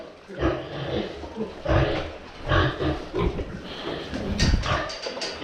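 Weaned 35-day-old piglets grunt and snort steadily while eating feed, with a dense, close chorus of overlapping grunts and feeding noises running throughout.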